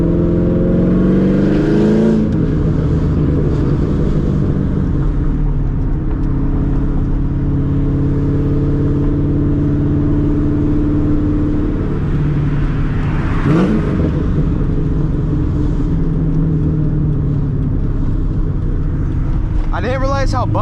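Straight-piped, cammed C5 Corvette engine drones loud and steady from inside the car while driving, with a deep rumbling tone that swells and falls through revs and a sharp rising burst near the end.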